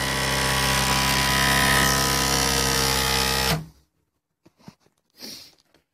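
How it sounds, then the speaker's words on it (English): A small Gerard Morin pump on 5 volts DC runs with a steady high whine for about three and a half seconds, then cuts off abruptly, leaving near silence with a few faint clicks and handling noises. "And guys, this is all on 5 volts DC. I'm running this pump."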